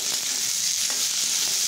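Boiled potatoes frying with spices in a pan for cumin potatoes, giving a steady close sizzle with soft hiss throughout and no talking.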